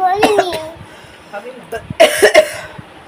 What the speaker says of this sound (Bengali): দেখো কাশি হচ্ছে খুব